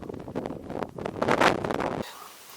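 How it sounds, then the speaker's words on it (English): Gusty wind on the Slieve Muck summit in the Mourne Mountains buffets a microphone in rough, rising and falling bursts, then abruptly cuts to a quieter rushing background. "It's windy."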